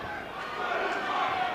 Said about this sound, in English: The crowd trying to chant to get him on.